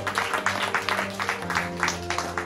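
Strong applause from a seminar audience, a steady wash of many hands clapping with rhythmic bursts, fairly close and loud, filling the short stretch alone.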